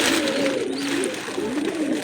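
Pigeons, a breeding pair of male and female offered for sale, coo steadily and close by in a continuous low warbling call with no talk over it.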